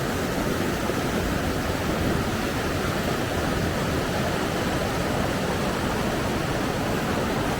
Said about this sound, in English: All you can hear, all you can make out is the actual noise of how fast the water is running.